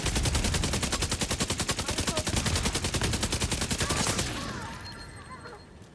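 Rapid automatic gunfire in the video game Division 2 rattles in a long, dense, evenly spaced burst, then stops and fades out to quieter game sounds.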